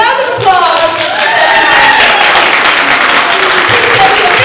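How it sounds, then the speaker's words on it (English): An audience at a tea dueling finals at a steampunk convention breaks into sustained applause, a steady dense wash of clapping that carries on throughout. "A round of applause."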